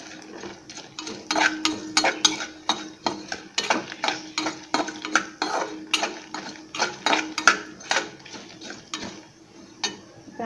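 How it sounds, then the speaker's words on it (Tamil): Black pepper and cumin seeds dry roasting over medium heat for a chicken kuzhambu, with a spoon scraping and clinking against the pan in a steady, fairly close rhythm of repeated strokes and no talking. "அதுக்கப்புறம் இந்த மிளகு, சீரகம் எல்லாத்தையும் ஒன்றா போட்டுருங்க. போட்டுட்டு நல்லா மிதமான தீயிலையே நல்லா வறுத்துக்கோங்க."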